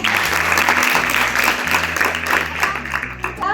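A group of students claps loudly and steadily in a classroom, a dense burst of applause sustained throughout, close by and with a faint voice underneath.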